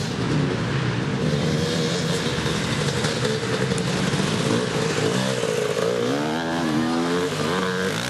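Honda motocross motorcycle engine at a race in Mansfield, steadily loud as the rider approaches, with rising and falling revs toward the end.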